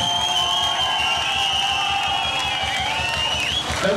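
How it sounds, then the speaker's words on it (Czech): A crowd at a disco dance battle in Lážovice cheers and whistles for a few seconds, a loud sustained roar with shrill whistles on top that fades slightly near the end. "Já si myslím, že by to chtělo velký aplaus."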